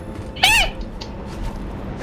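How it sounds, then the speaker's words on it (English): A single short, bright meow from a house cat, close and clear, rising then falling in pitch, followed by faint background noise. "Can you hear her meow"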